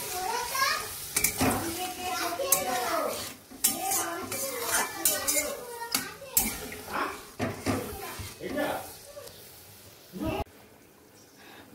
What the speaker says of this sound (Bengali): তো সামান্য পরিমাণে জল দিই, জল দিয়ে ভালো করে একটুখানি কষিয়ে নিই